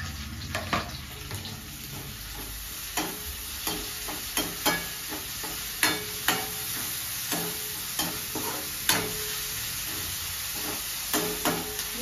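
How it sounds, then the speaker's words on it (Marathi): Capsicum being sautéed with browned onions in a pan for a paneer dish produces a steady low sizzle, broken by frequent sharp clicks and scrapes of a spatula stirring against the pan. "ढोबळी पण परतून घ्यायची."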